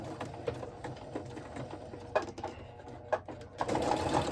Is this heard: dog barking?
no